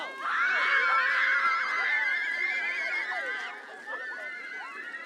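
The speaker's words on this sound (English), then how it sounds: "The sounds of screaming and happiness filled the air outside Jack Kemp School" Children shrieking and shouting happily outdoors at an elementary school's Land-Based Culture Day activities, a dense, loud wash of high excited voices that fades slightly toward the end.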